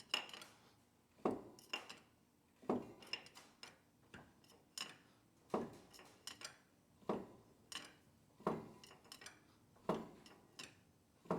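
Rhythmic metallic knocking from a single cylinder of a D6-9U Caterpillar dozer engine as the piston reaches top, sharp clicks repeating about every 1.4 seconds, close and clear with no talk.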